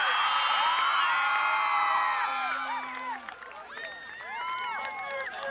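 A school assembly crowd cheers loudly for the Green Knights at a Medieval Times-themed event, mixing children's shouts and whoops into a dense roar. The roar eases slightly partway through, then swells again.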